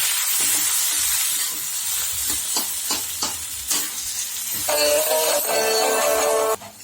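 Moong dal dosa filling with amchur powder sizzles and fries in a pan while a utensil stirs and scrapes through it in short strokes, with a brighter, louder hiss of frying toward the end before it cuts off.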